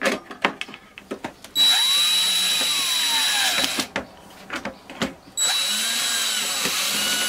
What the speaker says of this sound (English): drilled some holes through it and also pre-drilled some holes on the table